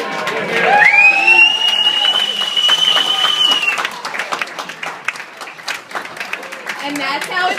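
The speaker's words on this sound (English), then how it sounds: "Raise our glasses and cheer." Guests at a rehearsal dinner cheer and applaud after a toast, a steady wash of clapping and crowd voices with a whistle rising early on, fairly close and lively throughout.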